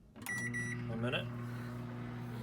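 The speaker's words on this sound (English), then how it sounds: "And next we will microwave it for 1 minute." A microwave oven starts with a beep or two and settles into a steady, even electric hum with a low mains drone, running close by; a brief voice-like sound passes early on.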